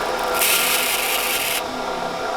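A sanding machine works over small wooden parts, giving a steady close abrasive rasp that swells into a brighter, louder hiss for about a second before settling back to a lower scraping drone.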